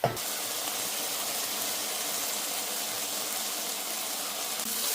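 Beef dropped into a hot oiled pan sizzles loudly and steadily right after a brief initial contact, a close, continuous hiss that holds for several seconds.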